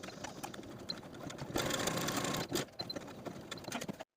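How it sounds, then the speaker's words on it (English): A sewing machine stitches an apron pocket, backstitching to secure the seam, with a steady mechanical whir that grows louder midway, briefly pauses, then resumes close up and alone. "Take it to your sewing machine, starting your stitches with a few stitches back and forth to secure this area"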